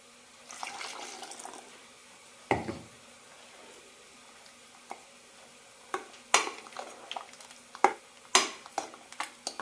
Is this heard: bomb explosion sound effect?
no